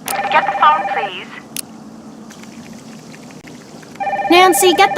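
A telephone rings in the Nancy Drew game Danger by Design: a steady electronic trill pulses for about a second, then cuts off and returns near the end, set against a low hum of room tone.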